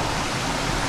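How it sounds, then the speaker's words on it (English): A jungle river in Indonesia gives off a dense, constant roar of flowing water. The sound is close and loud, with no talking. "Anyway, river."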